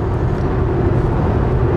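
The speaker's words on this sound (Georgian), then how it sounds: "არ მომწონს სხვათა შორის აი ცოტათი ქარის ხმა შემოდის." Steady wind and road roar inside a BMW X5 with the windows closed, cruising at about 100 km/h, a constant broadband hush with no talk.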